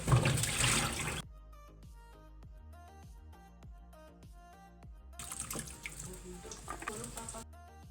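Peeled pana washed under a running tap in a sink; a burst of splashing water at the start, then quieter drips and clinks against the basin, and running water returning near the end.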